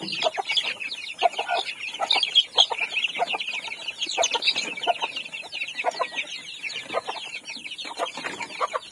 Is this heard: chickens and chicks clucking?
yes